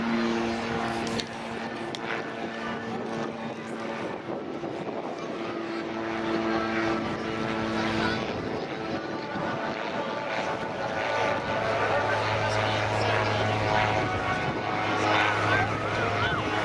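An Air Total Calidus autogyro flies at an air show in Portrush, its propeller engine droning steadily at moderate distance with tonal hum throughout, while a commentator talks over it on a public address.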